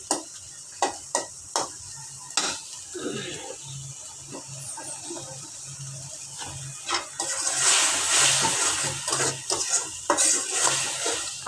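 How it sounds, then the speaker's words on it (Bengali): Dried fish (shutki) cooking with papaya in a pan: a spoon stirs and scrapes the pan in clustered clinks, then a stronger sizzle of frying rises midway, close and moderately loud. "আমি ফার্স্ট টাইম শুটকি দিয়ে পেঁপে রান্না করছি"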